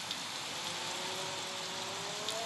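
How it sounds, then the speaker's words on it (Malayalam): Heavy rain falls steadily as a dense, continuous hiss with no gaps, loud and close; a faint rising engine-like tone runs underneath and no one speaks. "ഭയങ്കര മഴയാണ് ഗൈസ്."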